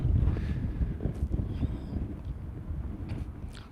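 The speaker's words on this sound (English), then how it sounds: "Gosh, it's really, really windy." Strong wind blows outdoors straight into the microphone, a steady low buffeting rumble that stays loud and continuous throughout, with no talking.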